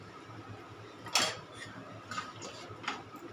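A spoon stirs semolina and milk in a pan for palm-fruit sweets, making faint, sparse clicks and scrapes against the metal over a quiet kitchen background.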